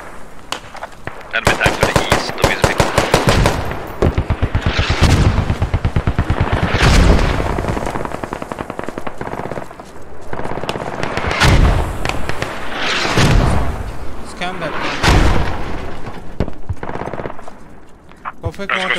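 Mortar and gunfire boom in an online shooter match in rapid, loud bursts, with repeated heavy blasts and crackling volleys, while players talk over the radio throughout.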